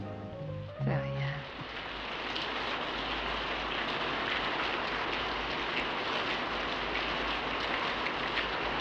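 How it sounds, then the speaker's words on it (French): Steady rain pours down outdoors, a dense, even hiss that swells in after a brief voice and some faint tones in the first second, then continues unbroken to the end. "Mais il pleut."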